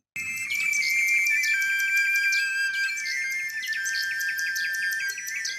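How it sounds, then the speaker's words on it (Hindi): Animated nightingale in a fairy-tale emperor's palace sings a continuous bright, high warbling song of rapid trills and sliding whistles, loud and close, with a faint low music bed beneath. "तुम्हारी आवाज तो बहुत ही मीठी है प्यारे नन्हे पक्षी"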